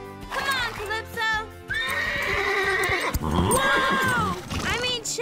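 Cartoon horses whinny loudly and repeatedly while hooves clip-clop beneath, with animated voices mixed in over a lively, close soundtrack.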